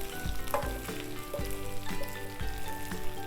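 Ginger garlic paste fries in hot oil for an Andhra fenugreek chili chicken, a steady close sizzle broken by regular scraping stirs, with no voices.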